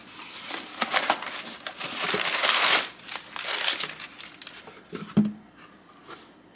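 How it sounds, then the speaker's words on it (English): Plastic wrap and cardboard packaging of a pink iPhone 16 Plus crinkle and rustle as it is unboxed, a close, busy run of crackling bursts with a couple of soft thumps. "So, okay, let's go ahead and unbox it."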